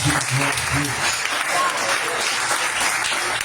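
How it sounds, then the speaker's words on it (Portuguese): A church congregation claps for Jesus during a service, a full, continuous round of applause with voices murmuring beneath it throughout. "dá um aplauso ao Senhor Jesus"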